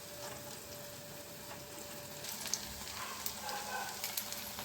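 Semolina rasgulla balls fry in hot oil, a faint steady sizzle with a few small pops and stirring touches, close by and without talk.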